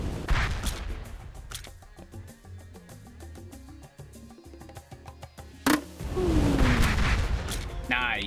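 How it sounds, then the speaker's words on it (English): Three charged rockets launched at once in a video game, a cluster of sharp blasts and booms over a busy game soundtrack, with a loud whooshing burst near the end. "You can fire 3 rockets at once by holding the attack button to charge"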